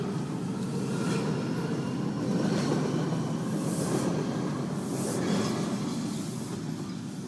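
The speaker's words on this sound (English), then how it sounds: "This is a red line train to Silver Spring." A Washington DC Metro Red Line train runs steadily on its rails, a continuous close rumble with a faint rhythmic clatter and occasional high squeals, heard alone without voices.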